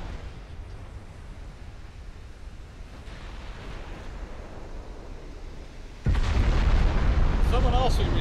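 A German battleship exploding in a naval video game: a low rumbling background swells into a sudden loud, deep boom that keeps roaring, with a faint whistling tone over it.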